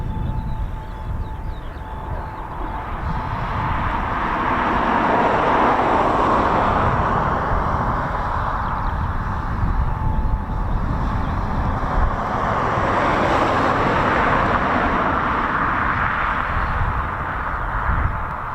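Eurofighter Typhoon FGR4 jet flying at RAF Coningsby, a loud, continuous roar that swells and fades slowly as it passes, broad and rumbling throughout.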